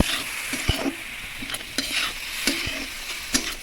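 Vegetables with salt stirred and fried in a pan for homemade veg momos, a steady close sizzle broken by scraping stirs and light clinks of a spoon against the pan.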